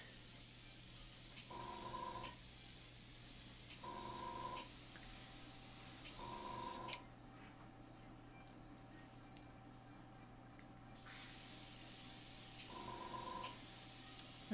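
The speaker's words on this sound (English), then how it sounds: "I'm using Pastelmat. So, I mean, who does airbrushing on Pastelmat?" An airbrush sprays onto Pastelmat paper as a soft, steady hiss under a low hum, with a few brief clicks and a short break in the middle.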